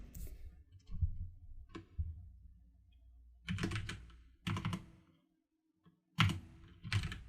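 Keystrokes on a computer keyboard come in short clustered bursts, close and moderately loud, with brief pauses between runs and no talking.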